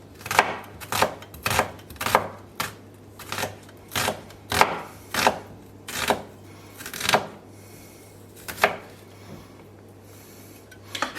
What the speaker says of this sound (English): what we're going to do now is cut this into half rings